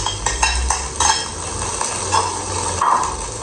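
Onions tip into fried rice in a pan and are stirred with a metal utensil, making repeated scraping clinks over a low sizzle, close and fairly loud, with no talking.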